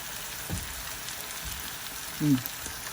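Pancake batter frying in a pan for a home breakfast, a soft steady sizzle like light rain, with a few faint taps and a brief low voice sound partway through.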